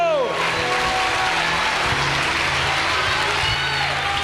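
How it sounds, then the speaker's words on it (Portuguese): A church congregation claps together during a midweek worship service, producing a dense, steady wash of applause for several seconds, with music tones running underneath. "Aplauda o Senhor bem forte aí"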